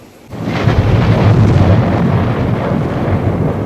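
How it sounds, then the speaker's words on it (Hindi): Heavy, continuous rumbling thunder with a dense wash of rain, loud and close, building after a brief quiet start and sustaining throughout. "बाहर बहुत तेज़ बारिश हो रही है और बिजली कड़क रही है"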